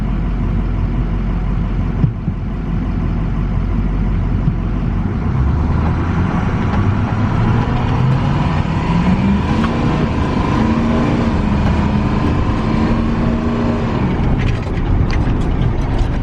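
A Ford Powerstroke 6.0 diesel truck pulling hard, a loud close drone of engine and drivetrain whose pitch climbs steadily for several seconds before dropping as it shifts, with mechanical rattling throughout and no talking.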